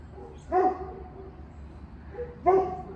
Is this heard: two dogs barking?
yes